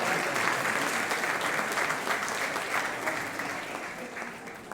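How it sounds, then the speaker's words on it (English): An audience at a 50th anniversary celebration at the Carnegie gives a round of applause, a thick, continuous clapping that stays loud and slowly tapers off. "y'all give him a round of applause"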